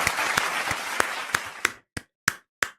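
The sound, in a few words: applause for Matty Scott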